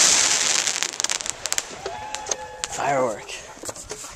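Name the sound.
fireworks going off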